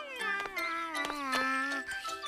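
Evil the Cat, a cartoon villain, gives a long, wavering, drawn-out meow that sits close and loud, voiced by a performer imitating a cat, with a few sharp clicks mixed in.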